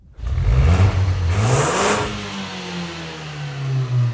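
Turbocharged 2013 Ford Focus ST engine accelerating hard, a loud, close mid-pitched roar rising through the revs with a whooshing turbo sweep, then settling into a steady drone.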